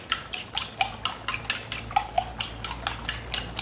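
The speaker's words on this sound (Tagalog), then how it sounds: "Ibatil ang egg, guys." Two eggs beaten in a bowl, with a fork or spoon tapping the sides in a quick, regular series of about a dozen clinks, close and clear with no talk.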